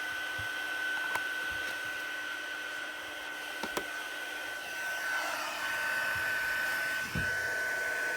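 A heat gun blows with a steady, close, whooshing hum while warming an embellishment on a handmade card, running continuously with a few faint clicks and knocks underneath.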